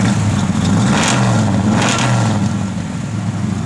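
The 1969 Chevrolet Camaro RS/SS's engine idles steadily and close by, with a deep, even rumble and a couple of slight swells in revs, with no talk.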